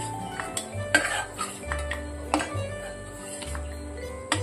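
Fried cashews are lifted from the pan into a bowl with repeated metallic scrapes and clinks of a spoon against cookware. Background music plays beneath these kitchen sounds.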